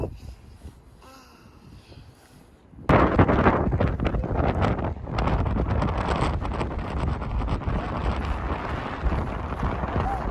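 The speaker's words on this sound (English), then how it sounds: "the wind level has picked up for sure" Strong wind at Poldhu, Cornwall, buffets the microphone in loud, rough gusts after a quieter opening, roaring continuously to the end.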